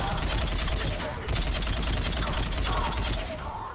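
Rapid gunfire in the video game Mass Effect 3, dense bursts of shots filling the clip with a brief pause near the middle, loud and close.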